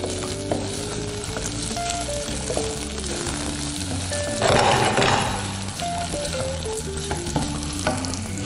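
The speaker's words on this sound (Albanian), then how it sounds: "Qepër në fillim, patatet dhe i kardisit të gjitha së bashku." Onions and potatoes fry together in a pan with a steady close sizzle, and a louder burst of crackling about halfway through as the ingredients are stirred.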